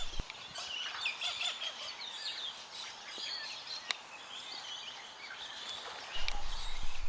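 Water birds call in spring in a southern setting, with busy overlapping chirps and calls at moderate distance, fairly faint and steady throughout.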